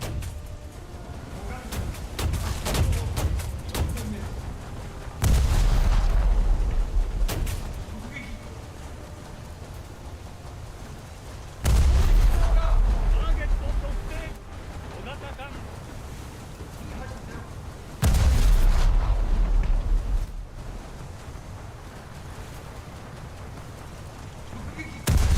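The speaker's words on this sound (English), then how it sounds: "They can drop artillery on me, but I think I'll be fine." Heavy booming artillery blasts in a naval video game, three loud low thuds spaced several seconds apart, each rumbling for about two seconds over a constant wash of sea and engine noise, with someone talking throughout.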